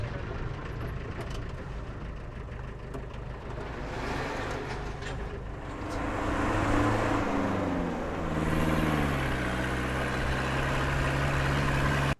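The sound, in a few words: truck engine passing on Himalayan mountain road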